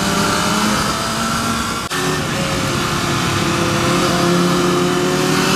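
A Ducati Hypermotard motorcycle engine revs hard toward redline, loud and steady throughout with a brief dip near the two-second mark, sounding close and sustained with no talking.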